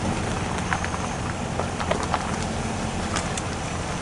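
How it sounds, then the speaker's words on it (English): Rain patters on a car windshield, a dense, close wash of drops with scattered sharper taps over a low rumble from the vehicle. "it is raining and the windshield is getting quite a bit of rain on it."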